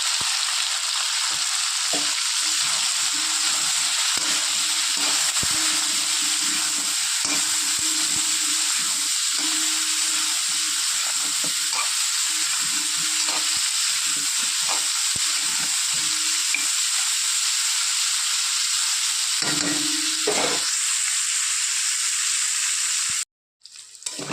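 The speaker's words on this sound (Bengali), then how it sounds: "লাল করে ফুলকপিগুলো ভেজে নিয়েছি" Cauliflower florets fry in a pan with salt and turmeric powder, a loud continuous sizzle and hiss broken by intermittent stirring scrapes, stopping abruptly near the end.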